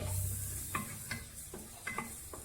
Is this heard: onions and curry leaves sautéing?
yes